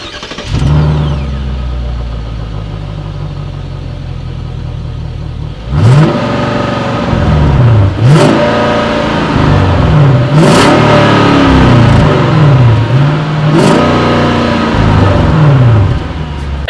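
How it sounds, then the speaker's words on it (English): A 2018 Genesis G80 with a 5.0L V8 and quad exhaust tips starts up, idles briefly, then is revved repeatedly in sharp bursts that rise and fall, loud and close, with no talk. "Here is that exhaust clip."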